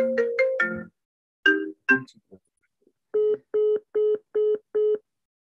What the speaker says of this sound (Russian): Простите, пожалуйста, надо как-то отключить телефон.